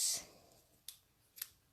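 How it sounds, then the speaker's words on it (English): Scissors snip through a thin, skinny ribbon for a card bow: a bright snip at the start, then two quieter, crisp cuts spaced about half a second apart, close and alone. "So I'm just going to cut myself a piece."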